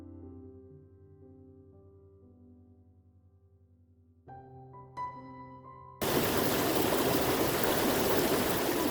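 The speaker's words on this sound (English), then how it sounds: "I waded through a partially frozen stream." A calm, tonal passage gives way to a steady, full rush of water flowing in a partially frozen creek that continues loudly to the end.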